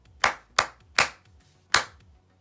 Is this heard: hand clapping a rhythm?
yes